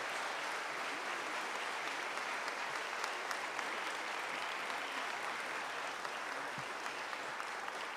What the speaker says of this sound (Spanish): Yo pido un aplauso para los regidores y que se paren,